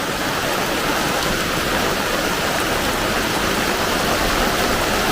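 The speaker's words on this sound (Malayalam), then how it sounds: "നല്ല സൂപ്പർ മഴ" Heavy rain pours down in a dense, unbroken roar, loud and close, holding steady from start to finish with no voices.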